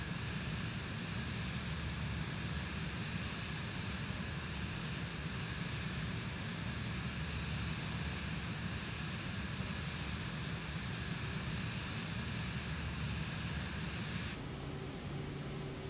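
Cirrus Vision Jet G2 in Microsoft Flight Simulator 2020, flying over Chicago: a constant steady jet engine drone with a broadband hiss, unchanging, then a slight drop in tone near the end.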